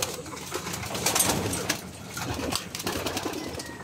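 Pigeons cooing at close range among fancier racing or show birds in a loft, soft repeated throaty coos with scattered shuffling and fluttering, no talking.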